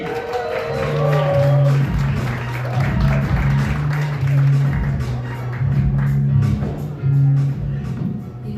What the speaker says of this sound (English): You guys make a nice clap for Kaylee Ray